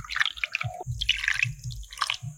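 Water poured from a bowl into ground rice batter with salt, wet splashing and squishy dripping sounds in short close bursts, quiet and with no one speaking.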